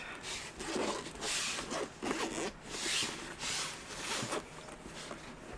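A zipper on a large case being pulled open in several repeated rasping strokes, close and fairly loud, with brief pauses between pulls and no talking.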